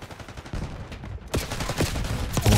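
Rapid bursts of gunfire from a Call of Duty: Black Ops 6 multiplayer match in Hardpoint mode, loud, dense and continuous, with several volleys layered together and no talking.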